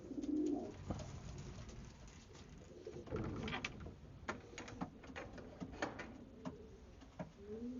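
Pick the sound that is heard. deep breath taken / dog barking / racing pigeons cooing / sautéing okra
racing pigeons cooing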